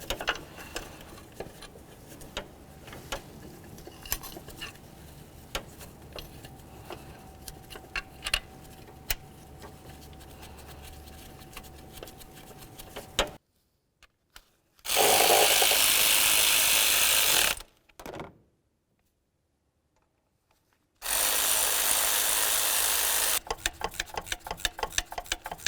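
A bolt being driven in while a Honda CR-V alternator is installed, heard as close, irregular ratcheting ticks and clicks followed by bursts of loud, dense power-tool noise separated by silent gaps.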